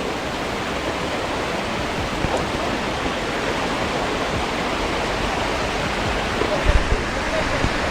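Aadoshi waterfall in Khopoli roars as a steady broadband rush of falling water, loud and continuous, with a few faint bumps near the end.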